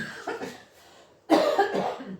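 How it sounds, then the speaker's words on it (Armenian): A close cough from a person smoking a cigarette, a short one followed by a louder harsher cough, with no speech around them. "Որ խոսում եմ, այդ ինձ հազացնում է"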